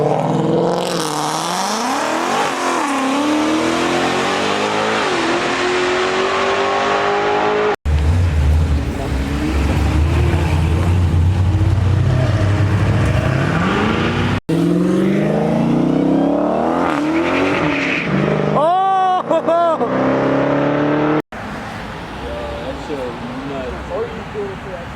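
A Mercedes G-Wagon engine revs hard at a car show held at a mansion, loud and sustained with rising and falling pitch through several cuts, while people talk and shout close by.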